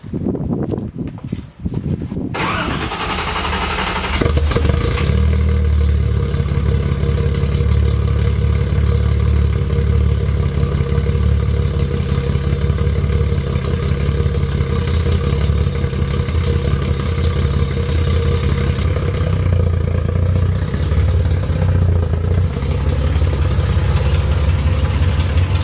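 A Datsun engine cold-starts after a few days of sitting: a short cranking churn, then it catches into a loud, steady low idle that runs on continuously and close with no talking.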